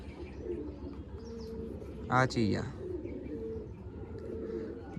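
Pigeons kept by a hobbyist coo briefly once at close range, a short rolling call standing out over steady background noise while a person talks nearby.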